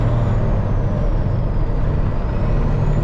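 A Peterbilt truck's diesel engine, down an injector and suffering fuel pressure trouble, is held at full throttle, a loud, steady, deep droning roar with no breaks.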